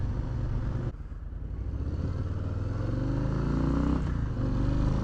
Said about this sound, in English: you can hear the grumble of the exhaust on this bike.